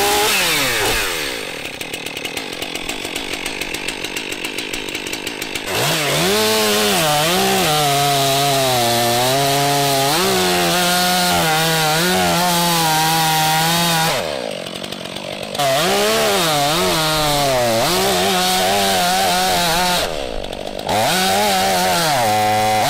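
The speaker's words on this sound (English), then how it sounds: "It's a strong saw and it should cut through this real nicely" A heavy, fuel-injected Stihl MS500i professional chainsaw cuts through wood. Its loud, close engine whines continuously and rises and falls in pitch under load, with short dips where the saw eases off, and no talk.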